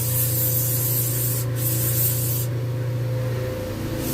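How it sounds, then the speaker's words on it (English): An air compressor supplying a powder coat booth runs continuously with a steady low hum and broadband hiss, loud and constant, with a brief dip in the hiss partway through. "Yeah, the air compressor kicked on."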